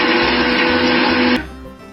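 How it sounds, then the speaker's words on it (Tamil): A mixer grinder jar blending a single banana in the same jar used to grind batter for rice flour paniyaram, a loud steady whirring motor that runs alone and then abruptly cuts off, leaving a brief fading spin-down. "இப்போ நம்ம ஒரே ஒரு வாழைப்பழம் எடுத்து மாவு அரைச்ச அதே மிக்ஸி ஜார்ல போட்டு நல்லா நைஸா அரைச்சி எடுத்துக்கலாம்"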